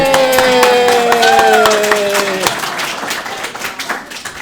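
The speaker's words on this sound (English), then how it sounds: "being applauded into the room" Indoor applause greeting someone entering a room, with steady clapping from a small group that fades toward the end while a sustained tone plays over the first half.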